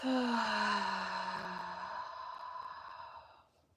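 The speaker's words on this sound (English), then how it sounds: "And exhale out through the mouth." A single deep exhale pushed out through the mouth during a guided breathing exercise, a long breathy rush that starts strong and slowly fades over a few seconds, close and alone with no talk.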